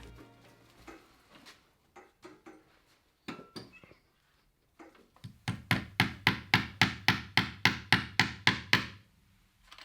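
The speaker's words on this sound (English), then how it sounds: "Girl knows how to swing a hammer." A hammer swung again and again while garlic is harvested and willow potted outdoors, landing in a steady run of about a dozen sharp, loud blows after a few scattered knocks.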